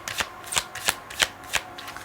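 Tarot cards riffle and slap in a quick shuffle, six crisp papery bursts about a third of a second apart, close and fairly loud.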